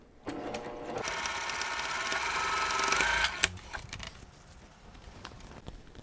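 A sewing machine runs a steady seam on a Christmas star quilt block for about three seconds, close and loud, then stops with a click and faint handling noise.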